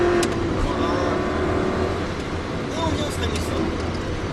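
An Aston Martin sports car engine roars steadily from inside the cabin on a driving course, a continuous loud drone as it accelerates through fourth and fifth gears at speed.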